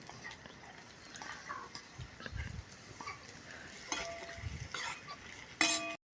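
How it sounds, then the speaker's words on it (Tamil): Onions frying in hot oil for turkey biryani, stirred with a metal spoon in a pan: a soft sizzle with scattered scrapes and clinks, and a sharper clatter near the end. "எண்ணெய் சூடாகிடுச்சு இப்போ வெங்காயம் போடணும்"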